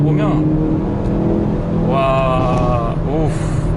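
A Hyundai Veloster N accelerates uphill, its exhaust note climbing through the revs in two pulls, loud and close, while someone talks over it.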